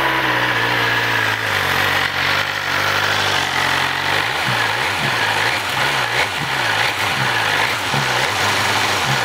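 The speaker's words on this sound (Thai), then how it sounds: "เดี๋ยวฟังเสียงสตาร์ทดู อันนี้ขนาดท่อเดิมนะ" A BMW S1000RR motorcycle on its stock exhaust fires up and settles into a steady, buzzing idle, with rhythmic low pulsing in the second half, heard up close.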